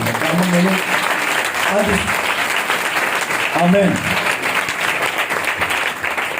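A church congregation applauds loudly, a dense steady wash of clapping across the whole stretch, with a voice briefly speaking over it.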